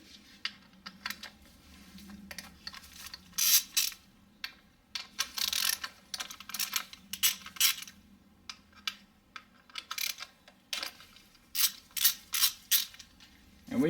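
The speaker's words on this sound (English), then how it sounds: "Now you need to remove all the coils. They're all 10mm bolt," Ratchet wrench loosening the 10mm ignition coil bolts on a 2007 Toyota Highlander Hybrid engine, heard as close, repeated bursts of rapid clicking spread across the whole stretch with short pauses between.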